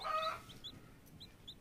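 A hen with her tiny newborn chicks gives soft clucks, with high peeping calls scattered through the short stretch, close by and fairly quiet.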